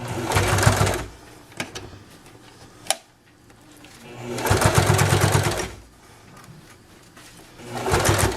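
A sewing machine stitches a small card wallet in three separate runs of about a second each, close and moderately loud, with quiet pauses and a sharp click between them.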